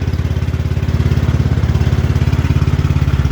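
A Cub Cadet XT1 Enduro series garden tractor engine runs steadily after a cold start while being driven at night, a close, loud, even mechanical thrum with a rapid regular pulse throughout.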